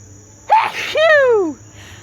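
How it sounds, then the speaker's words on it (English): A single person sneezes loudly and close by inside a car, a sharp inhaled gasp followed by a strong, tonal burst that falls away, with quiet cabin hum before and after. "Achoo! Oh, goodness. That'll wake a person up."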